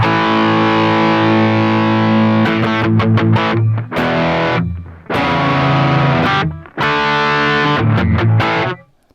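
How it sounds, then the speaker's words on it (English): Electric guitar played through a DIY pedalboard overdrive/distortion pedal, loud and saturated, with sustained chords broken by short choppy strums and brief pauses, no talking. "That button on the very right will change the character from an overdrive to a distortion."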